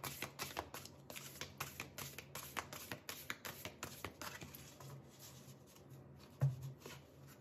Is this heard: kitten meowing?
no